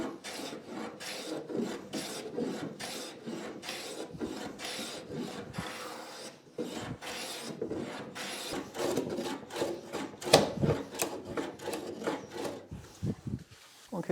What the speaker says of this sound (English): we're going to plane this flush, match everything up